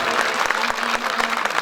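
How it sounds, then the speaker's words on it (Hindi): An audience at an educational institution's event breaks into steady, dense applause, with many hands clapping at once and filling the space evenly throughout. "एक ताली बजा लीजिए।"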